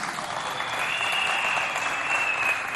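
Steady applause from a live audience at a quiz-style question segment of a Chad Republic anniversary special, a dense even wash of clapping that holds at a constant level throughout.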